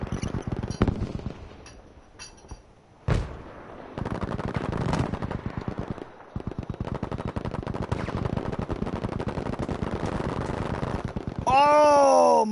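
Rifle fire in a competitive video game league match, dense rapid bursts of shots with brief gaps, loud and close, ending in a sharper burst, with no clear talk over it.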